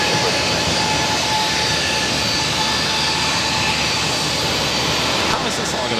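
A JetBlue Airbus A320 jet takes off from Boston Logan, a loud, steady, broadband engine roar filling the whole stretch, with faint talk underneath.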